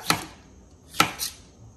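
A knife cuts through fresh strawberries on a board, slicing them into rounds: two crisp chops about a second apart, close and clear, with a softer follow-up cut and no voices.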